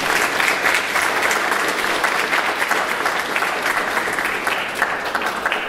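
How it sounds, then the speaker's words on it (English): A crowd at a school open day claps steadily in a full, even round of applause that holds at the same level from start to finish, with no voices standing out. "Can we just give a round of applause?"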